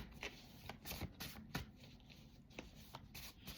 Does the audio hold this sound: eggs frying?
no